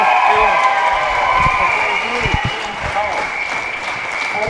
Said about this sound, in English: it was Birmingham, so I think that deserves even more of a round of applause